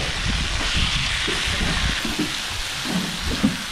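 Scallops sizzle and fry in garlic butter in a hot pan, giving a steady close crackle with small pops throughout, no talk over it.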